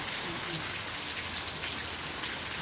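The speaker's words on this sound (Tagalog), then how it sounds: "Paminsan-minsan may bugso ng ulan." Steady rain pours down during a stormy spell with strong wind, a dense continuous hiss of drops hitting surfaces, with faint voices underneath.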